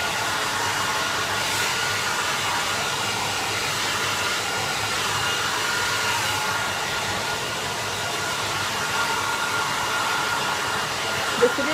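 A hair dryer blows continuously as it dries hair, a loud, steady, close whooshing roar that holds without a break for about twelve seconds.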